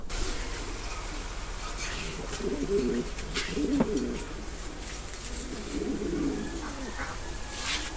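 Soft, throaty coos from a male fancy pigeon at a pigeon farm repeat a few times at close range over a faint background hum, with occasional brief clicks.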